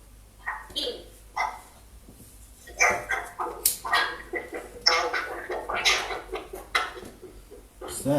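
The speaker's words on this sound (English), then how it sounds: "What's that? Sounds like a dog." A dog barks and yips repeatedly indoors in a studio, sharp bursts in quick irregular runs that grow busier and louder, with people talking around it.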